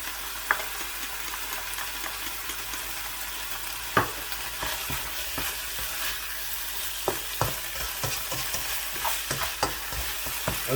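Macaroni and keema with tomato paste and chilli sauce fry over high heat, a continuous sizzle punctuated by sharp clicks and scrapes of the stirring spoon against the pan.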